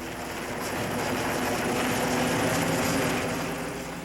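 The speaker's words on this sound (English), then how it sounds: "the extinguishing capabilities of the helicopters that buzz in" Firefighting helicopters' rotors thump and roar steadily overhead, loud and continuous with no pause or voices.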